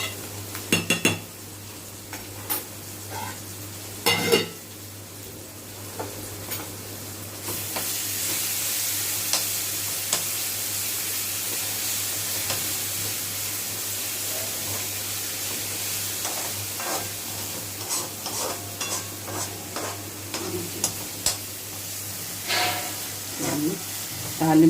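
A pan of tempering with onion, green chillies, coriander and mint paste sizzles softly while a metal spoon repeatedly scrapes and clinks against the pan, giving irregular stirring knocks over a steady background hiss; no talking.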